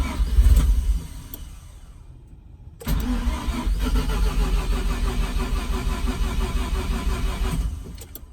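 A Mazda FD RX-7 rotary engine cranking on its first start: a loud starter burst, a short lull, then several seconds of steady churning cranking that fades out without catching.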